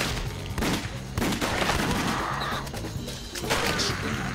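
Rapid gunfire from The House of the Dead: Overkill, a run of loud, dense shots and crashing impacts packed back to back throughout, with game noise filling the gaps.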